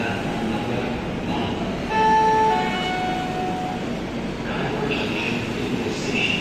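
Inside an AC 3-tier coach of the 12130 Howrah Pune Azad Hind Express, a steady rumbling roar of the running train fills the air, with a brief high wheel squeal partway through near Raipur.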